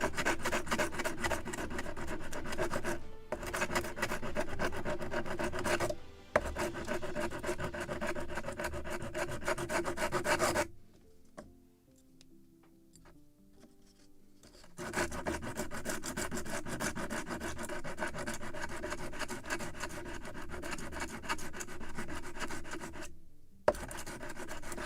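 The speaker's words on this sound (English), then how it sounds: "I can sand a little more to make it even more beautiful" Steady, close rasping of sandpaper against a small wooden part for a model of the 1776 gunboat Philadelphia, with rhythmic back-and-forth strokes broken by short pauses and one longer quiet stretch midway.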